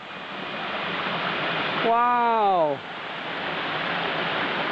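A large waterfall roars as a steady, loud, broadband rush that fills the whole scene, while a person briefly exclaims in wonder over the constant flow of water.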